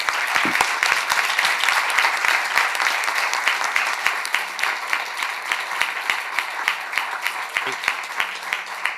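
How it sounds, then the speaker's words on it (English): A conference audience at a healthcare innovation event in Rome applauds the organisers, a steady, dense round of clapping that holds at an even level throughout with no talk over it. "I'd like to just give them a round of applause."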